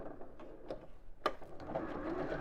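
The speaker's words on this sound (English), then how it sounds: "I'm sewing around the bottom 3 sides of the bag, of the flap" A sewing machine stitches around the bottom three sides of a bag flap, a close run of quick mechanical needle thumps and whirring, steady and alone.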